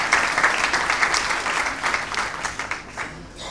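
Hall audience at a BatiPlus presentation evening clapping warmly for Ali Zorkot, a full, continuous round of applause with gentle surges that tapers slightly toward the close.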